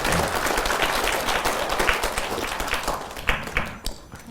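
Audience at a Buddhist dharma talk applauding warmly to welcome the next person, steady close clapping that tapers off into a few scattered claps.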